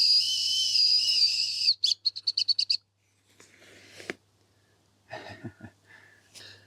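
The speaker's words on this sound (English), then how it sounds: "the interesting thing is this has a whistle in it as well" A whistle built into the sternum strap of a Minaal Daily 3.0 21L backpack gives one long shrill blast, then a quick run of short toots, loud and close, followed by some handling noise and a brief voice.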